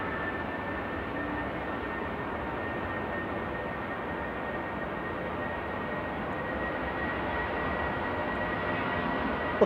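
A Lufthansa airplane at Manchester Airport produces a steady, distant jet engine roar that holds evenly throughout with a faint whine on top, no voices.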